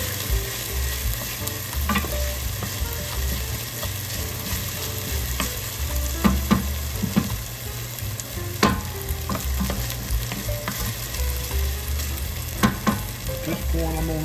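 Ingredients for an Irish beef stew stir-frying in a pot, a steady sizzle with scraping spoon strokes and clinks against the pot at irregular intervals throughout.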